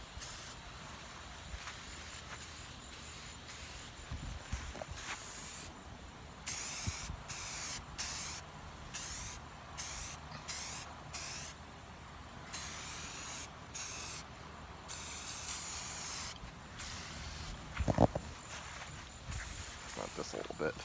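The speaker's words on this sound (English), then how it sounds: "So just going to lay a light, soft primer" Short bursts of aerosol primer hiss onto an RC car body for a 1983 Tamiya Lancia Rally, a series of rhythmic sprays, close and loud, with brief pauses between passes.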